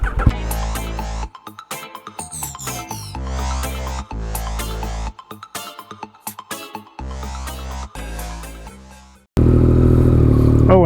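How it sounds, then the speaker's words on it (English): A Yamaha MT-09 motorcycle engine starting and warming up close by, loud throbbing idle broken by sharp cut-offs and blips, ending in a sustained steady run. "get the bike started, warm up a little bit, and then we'll take off"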